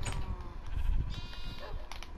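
Sheep in the video game Minecraft bleat in overlapping wavering cries, one after another, up close over a busy low background hum, without speech.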